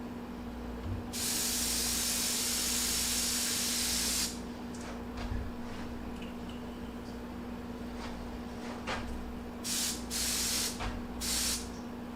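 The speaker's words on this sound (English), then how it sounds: "I'm going to rinse my gun out, or my airbrush." An airbrush gun being rinsed out sprays in a sharp steady hiss lasting a few seconds, followed by several shorter bursts of spray against a quiet background hum.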